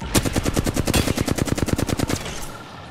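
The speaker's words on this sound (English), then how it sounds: "They spotted me. I'm taking shots." Video game gunfire rattles off as a rapid, evenly spaced burst of about twenty shots, close and loud, then cuts off, leaving a brief fading tail.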